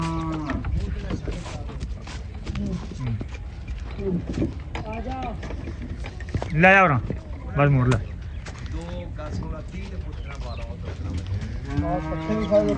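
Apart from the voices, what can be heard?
buffalo mooing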